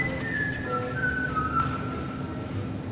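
A person whistles a summery fishing tune, the clear melodic notes gliding and sliding in pitch over a few seconds, close and alone with no speech.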